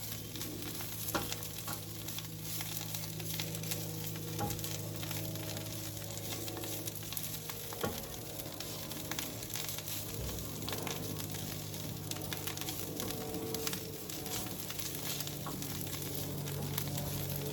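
Spinach for an egg and veggie scramble sizzles and wilts in a pan, a steady frying hiss with scrapes and clicks of stirring throughout, fairly close, with no voices.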